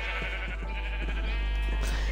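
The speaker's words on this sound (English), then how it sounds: "This is Josh's sheep farm." Sheep on a video game farm bleat in a few short, repeated calls over a steady droning background, fairly close and clear with no talking.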